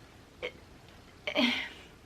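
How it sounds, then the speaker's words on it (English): Two quick throaty gulps in a quiet room: a small one, then a louder, slightly longer burp-like sound. "yeah, sorry, I burped."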